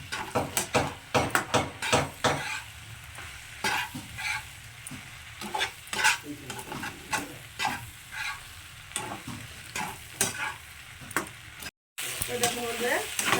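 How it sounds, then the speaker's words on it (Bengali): Sambar paste frying with tamarind water for sambar pasta, stirred hard in a pan: a sizzling, bubbling hiss broken by repeated rhythmic scraping strokes and clacks of the spoon, close and fairly loud. "এবার এটাকে এটার সঙ্গে খুব ভালো করে মিশিয়ে নেবো আর একটু ভাজা ভাজা করে নেবো"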